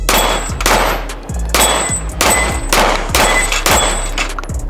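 A Springfield Prodigy 1911 pistol fires about five loud, evenly spaced shots at a steel dueling tree, each crack followed by a bright metallic clang and a ringing tail.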